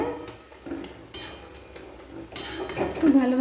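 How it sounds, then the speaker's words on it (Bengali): A metal lid lifted off a pot of boiled cabbage, with clanking clinks of cookware, a short scrape and a soft simmer underneath, close and fairly quiet. "এরপর ঢাকনা খুলে দেব।"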